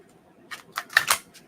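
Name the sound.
shuffling oracle cards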